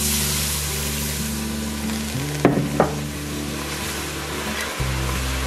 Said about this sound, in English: And now we're gonna slowly add our stock.